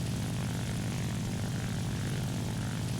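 Steady propeller drone of a La-5 fighter plane's piston engine in the War Thunder game, a loud continuous roar with no voices.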